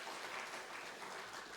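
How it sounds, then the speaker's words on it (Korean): A church congregation claps to welcome a guest speaker on Reformation Sunday, a faint, even patter of applause with no talk over it. "박수로서 환영하겠습니다"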